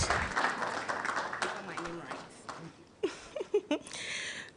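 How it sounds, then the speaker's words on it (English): A crowd at the NSMQ 2022 launch event applauds a brand manager, a few seconds of steady clapping that fades as a voice takes over at the microphone. "A round of applause for more data and credit."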